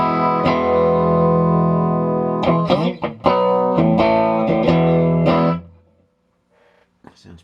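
Stratocaster electric guitar through a Bogen Challenger tube amp's mic input, with lightly overdriven strummed chords and picked notes, close and loud, ending with a brief quiet pause and faint plucks.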